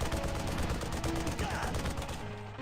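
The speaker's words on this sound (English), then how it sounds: "Okay, so I finally get this turret. Get to man this turret." Mounted turret in Armed and Dangerous firing in a dense, continuous rattle of rapid shots that fills the whole stretch at steady loudness, with battle noise mixed in.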